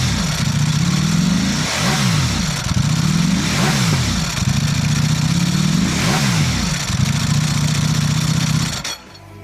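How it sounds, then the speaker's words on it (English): A Ducati Panigale V4 SP superbike engine revs repeatedly, each blip swelling and dropping back in a rhythmic pattern, loud and close with no talking. "The Panigale V4 SP, the iconic Ducati Superbike racing sound."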